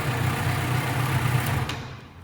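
A bridled 600 cc driving-school motorcycle, 34 horsepower, running: a steady low engine hum that holds for a couple of seconds, then fades as the sound thins out toward the end.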